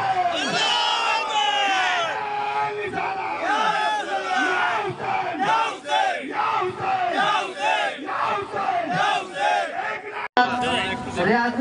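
At a Muharram Ashura gathering in Titagarh, a large crowd chants back in loud, rhythmic unison shouts in response to a religious slogan, repeated bursts of massed voices filling the whole stretch.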